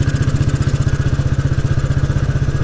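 A Royal Enfield Bullet 350 single-cylinder motorcycle engine on the move, a loud close rapid even thumping beat with mechanical clatter, steady throughout.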